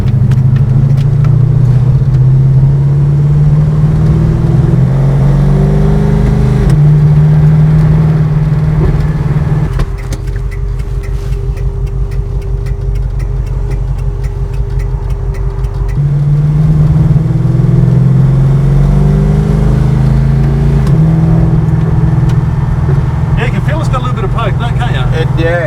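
An HG Holden Premier engine drones steadily while driving, its pitch climbing and then dropping at each gear change, with a quieter cruising stretch in the middle. It is heard from inside the car, loud and close.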